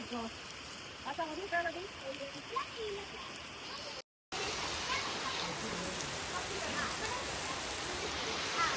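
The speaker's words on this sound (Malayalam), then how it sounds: "നല്ല മഴ എന്ന് പറഞ്ഞാൽ നല്ല അടിപൊളി മഴ" Heavy rain pours down outdoors while cousins play in water, a dense, steady hiss that fills the scene, with voices chattering over it early on before the downpour carries on alone after a brief cut.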